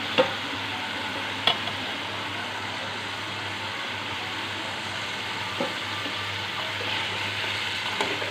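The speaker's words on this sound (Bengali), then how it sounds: "এবার আমি ভেজে রাখা আলুগুলো এর মধ্যে দিয়ে দিচ্ছি।" Fried potatoes stirred into a cooked spice paste in a pan, giving a steady, even frying sizzle with a soft hiss throughout, broken by occasional faint clicks and scrapes of a utensil against the pan.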